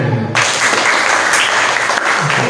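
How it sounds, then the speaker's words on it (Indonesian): A classroom of students claps their hands together in a loud, dense burst that begins suddenly and continues evenly throughout, close and bright with no talk over it. "Tepuk tangan."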